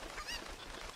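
A chicken clucks in the video game Zelda Ocarina of Time Randomizer: a brief burst of squawking, honk-like calls lasting about a second, with no talking.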